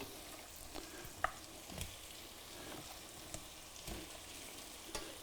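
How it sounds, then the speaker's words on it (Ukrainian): Potatoes are laid onto onions frying in a pan, giving a steady, soft sizzle with a few light clicks and taps from the pieces landing and being spread. "Тепер на цибулю, яка почала смажитись, викладаємо картоплю."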